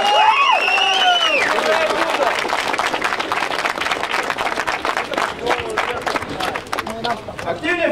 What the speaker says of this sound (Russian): Аплодисменты регбисту, ребята!